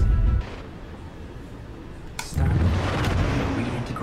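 Heavy starship cannons fire in the space combat game Star Citizen, a deep booming blast, then a sharp crack followed by a sustained loud rumbling roar, with no talking.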